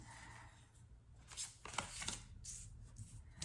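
Tarot cards being shuffled by hand, giving soft, close rustling and a few light card slaps over a quiet, low background hum.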